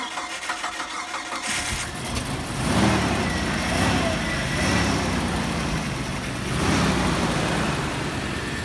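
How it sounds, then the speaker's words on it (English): A car engine fires up and then idles steadily and smoothly, a continuous close rumble with gentle rises and falls in revs and no voices over it. "It's idling really smooth."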